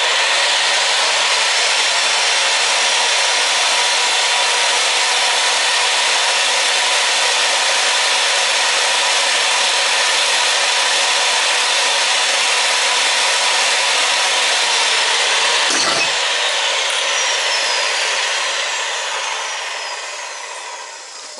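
A powered pipe threading tool grinds steadily on gas pipe, a loud continuous whining drone with a brief dip mid-way, then tapering slightly, close and unbroken.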